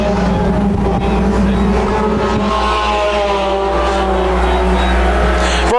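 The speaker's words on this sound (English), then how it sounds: "They'll come racing down the front stretch out in front" Thunder Stock race cars roaring down the front stretch at Can-Am Speedway, loud engines snarling and revving as the pack passes close by, with a commentator's voice under the engine noise.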